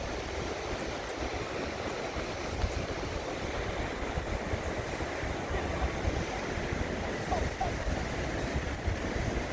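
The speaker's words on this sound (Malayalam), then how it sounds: "3 ഭാഗങ്ങളിലൂടെയാണ് വെള്ളം താഴേക്ക് വീണുകൊണ്ടിരിക്കുന്നത്" Athirappilly waterfall pouring down in three separate sections, a steady, dense roar of falling water that holds constant throughout without a break, with a windy rush layered over it.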